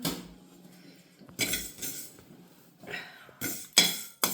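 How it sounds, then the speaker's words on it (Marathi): Ingredients for haldi lonche, a turmeric pickle, are dry-roasted in a pan over low heat, with loud metallic clinks and scrapes of a utensil against the pan in short bursts between quieter moments. No one speaks. "तर चला आता हे सगळं साहित्य आपण भाजून घेऊया"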